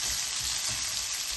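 Onions sautéing in a pan for a blue crab curry make a loud, continuous, close-up sizzle that stays even from start to finish.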